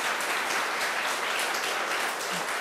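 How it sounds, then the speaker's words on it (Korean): An audience at a Gregorian chant church-music program applauds a nun's singing, a continuous even wash of clapping filling the whole stretch with no break. "수녀님께 이렇게 박수 좀 보내주세요"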